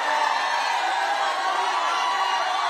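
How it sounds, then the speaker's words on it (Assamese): Women ululate at a political rally in Assam, a dense, sustained high trilling from the crowd that stays loud and even throughout, with no clear talk. "মহিলাসকলে উৰুলি বজাওক, উৰুলি বজাওক মহিলাসকলে"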